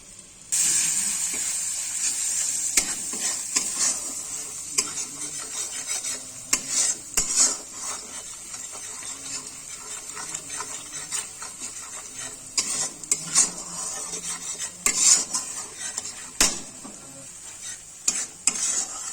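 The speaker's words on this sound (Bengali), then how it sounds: "এবার আমি রসুন বাটাটা ছেড়ে দিচ্ছি" Garlic paste sizzles steadily in hot oil in a pan for a cabbage, soybean and egg curry, with a spoon scraping and stirring throughout and occasional clinks of utensil against metal.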